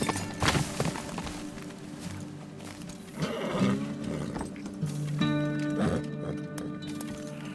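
A horse in the video game Teardown whinnies and neighs several times, with hoof clip-clops and scattered game noises around it.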